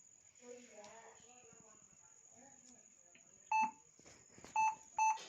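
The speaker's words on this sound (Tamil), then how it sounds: "நமக்கு இந்த மாதிரி பீப் சவுண்ட் வருது, ஆன் பண்ணி பீப் சவுண்ட் வருது" Three sharp electronic beeps from a Lenovo B490 laptop motherboard with no RAM installed sound in quick succession near the end, each short and piercing, following a stretch of quiet background murmur and a faint steady whine.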